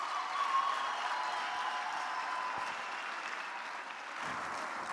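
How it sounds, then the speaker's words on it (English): Audience at a youth innovation event in Rwanda applauds the innovators, a steady dense wash of many hands clapping, moderately loud and continuous, easing slightly before picking up again near the end. "Another round of applause for our innovators"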